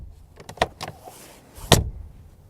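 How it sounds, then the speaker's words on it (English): On a 2019 Mercedes G350d, a few light clicks from the traditional door handle lead to a single heavy, solid door slam, close and followed by quiet. "exclusively the traditional door handles with the closing sound"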